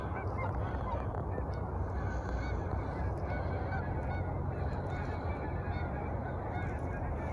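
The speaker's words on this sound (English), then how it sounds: "A lot of geese around." Geese honk steadily near a river with ice and a narrow passage under a high level bridge, many calls overlapping in a continuous flock clamor over loud outdoor background noise.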